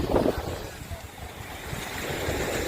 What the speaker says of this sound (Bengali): সমুদ্রের ঢেউ খুবই সুন্দর লাগছে।